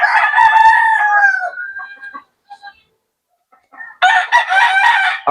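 Roosters crow loudly and close by at a gamefowl farm, one long crow followed after a quiet pause by another burst of crowing, with faint clucking in the gap.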